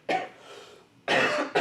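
A person with a cough that has lasted a couple of days coughs twice, close to the mic and alone: one short burst, a pause, then a louder second cough that trails into a brief third catch.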